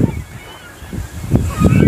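Large goose-like waterbirds calling at Frank Lake, a few rough honking calls rising over open outdoor background noise, fairly close and loud, with a hint of a voice underneath.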